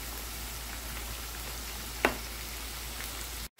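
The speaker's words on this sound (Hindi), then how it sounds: "अब मैं आलू को फ्राई करूँगी और नमक और मिर्च मैंने इस टाइम पे डाल, ये आलू मैंने डाल दिए हैं" Potatoes frying in a pot with salt and chili, a steady close crackling sizzle with one brief sharp clink partway through.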